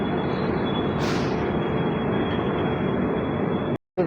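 The New Jalpaiguri–Nagercoil Amrit Bharat train rushes past close by, a loud, steady rumble and rush of wheels and cars filling the whole clip before cutting out abruptly near the end.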